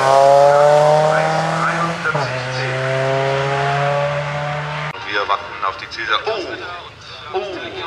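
A Golf GTI race car in Group F runs a mountain hill-climb slalom, its engine droning loudly and steadily with a falling pitch shift, then a commentator's voice takes over as the car sound fades into the background.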